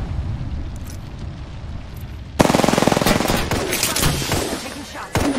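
Loud, rapid automatic gunfire erupts in the Apex Legends video game, a dense rattling burst that starts abruptly and continues with sharp shots and impacts amid other game sounds.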